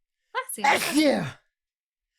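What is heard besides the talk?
sneeze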